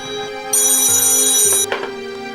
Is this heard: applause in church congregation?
no